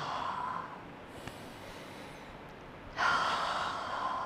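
Slow relaxation breathing: one long, soft breath fades out, then after a quiet pause a fuller, airier breath starts up, all close and hushed with no talking.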